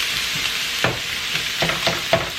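Rice and soy sauce frying in a pan, a steady sizzle running throughout with a few louder scraping stirs near the end, close and alone without talk.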